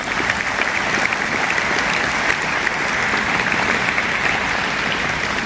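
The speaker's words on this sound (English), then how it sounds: "I would ask that we give a round of applause for the Air Force JROTC" A large graduation crowd at Morristown West in 2024 applauds the Air Force JROTC color guard with steady, loud, dense clapping that keeps an even level throughout.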